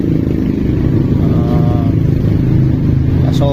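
Worn Yamaha Aerox 155 V1 scooter with a damaged CVT running loud and close, a rough idling drone with rapid rattling knocks throughout and no speech.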